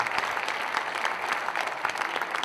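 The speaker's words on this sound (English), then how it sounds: "How about a round of applause for Southwest United Way?" A crowd applauds steadily, dense clapping filling the space at moderate volume throughout.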